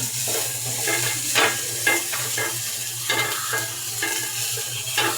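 Vegetables frying in a pan for a vegetable khichuri, sizzling steadily while a spatula stirs them in repeated scraping strokes over a low hum, no speech.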